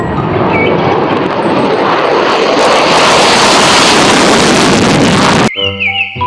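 A fighter jet sound effect, a loud, dense roar with rising hiss that holds for several seconds, then cuts abruptly into a short bright electronic jingle.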